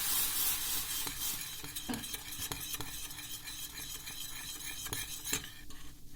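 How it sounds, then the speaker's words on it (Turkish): Sweet-sour hot sauce being stirred in a pot after a mix of baking soda and water is added, with steady scraping and clinking of a spoon against the pan and a soft sizzle underneath, no talking. "bir tatlı kaşığı kadar suyu karıştırıp ekliyorum ve güzelce karıştırıyorum"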